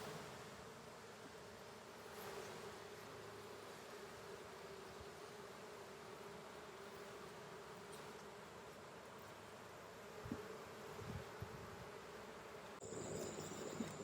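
Honey bees drone steadily inside an opened hive on a honey farm, a soft continuous buzz that stays even and fairly faint throughout, with a few brief rustles near the end.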